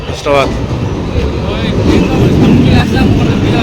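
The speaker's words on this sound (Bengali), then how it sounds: "ট্রেনের জন্য ট্রেনটা ঢুকবে এখনই" A train rumbles into a station with a steady, loud roar and rattling, while people talk nearby over the noise.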